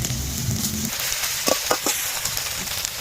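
Food frying in oil on a low flame, a continuous close sizzle with a few quick scrapes and taps of a spatula as it is turned.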